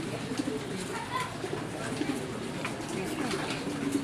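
A Raj Golla pigeon coos softly and repeatedly at close range while people talk over it.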